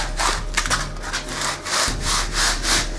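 A foam pool noodle is forced along a 3/4 inch PVC pipe, making steady, rhythmic rubbing and scraping strokes close to the microphone, with no talk.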